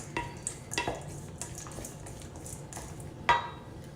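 Shredded chicken being stirred for chicken salad in a bowl, before any mayo is added: soft, irregular scrapes and clicks of a utensil against the bowl, fairly close but quiet, with no voices.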